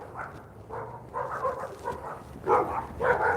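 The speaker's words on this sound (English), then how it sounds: "Lots of dogs in this area." Dogs bark from nearby yards along a residential street in Cheyenne, several short barks in irregular bursts that get louder toward the end over a low outdoor hum.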